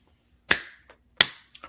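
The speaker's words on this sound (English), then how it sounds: "2 claps and a Rick." An audience at a live political talk show claps in rhythm: two sharp, loud claps about 0.7 seconds apart, each followed by a faint softer tap, in a quiet room.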